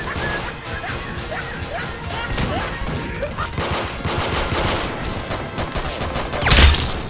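Rapid video-game gunfire with sharp cracks and smashing impacts, capped by one loud close headshot blast near the end, alongside yelping game sounds and brief talk.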